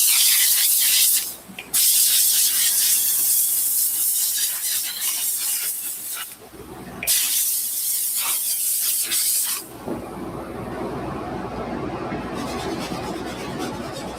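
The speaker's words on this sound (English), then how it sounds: "I'm just gonna steam out some of the areas where there's still some suds." A handheld steamer hisses loudly in long bursts while steaming suede shoes that still hold some suds, with brief pauses between sprays and a duller, rougher hiss near the end.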